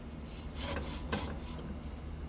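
A sharp blade saws through the shaft of a Stihl KM 91R power head with a few rasping strokes, close and moderately loud.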